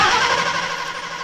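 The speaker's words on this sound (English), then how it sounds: "That beautiful sound is the front engine starting." The front engine of the Challenger II streamliner, burning alcohol, starts up with a loud, dense, raspy roar that holds steady, close and alone with no talk over it.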